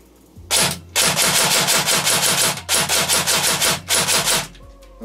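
An ICS CXP MARS airsoft carbine fired in semi-automatic, loud close bursts of quick repeated shots in three clusters separated by short pauses, with a mechanical hum underneath.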